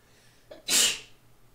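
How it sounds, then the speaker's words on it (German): A single sharp sneeze, preceded by a brief inhale, bursts out close by in a quiet moment during a PUBG gaming session. "Gesundheit."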